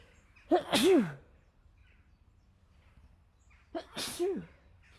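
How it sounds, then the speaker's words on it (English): Two loud sneezes a few seconds apart, each with a sharp rising inhale followed by a burst, in an otherwise quiet room. "I gotta sneeze."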